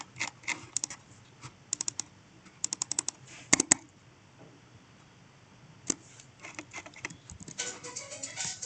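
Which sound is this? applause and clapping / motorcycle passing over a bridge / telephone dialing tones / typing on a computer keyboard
typing on a computer keyboard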